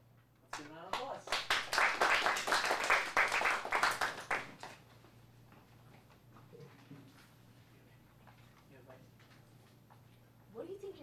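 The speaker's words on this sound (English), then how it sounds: "Let's give a round of applause." A small audience at a teen performance showcase claps in a short, lively round lasting a few seconds, then fades to quiet room sound with faint voices afterward.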